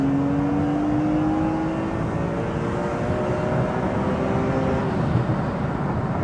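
A 350 bhp BMW E46 M3 CSL replica engine revs while rev matching on downshifts, a loud continuous in-cabin drone with harmonic tones sliding in pitch across the full stretch.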